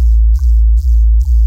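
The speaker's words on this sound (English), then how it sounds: "I'm using Vital. This is my favorite plugin for working with sub basses." A deep sub bass from the Vital synth plugin, for a future riddim track, throbs in three long sustained notes with brief dips between them, loud and heavy, with a faint buzzy upper edge and no talking.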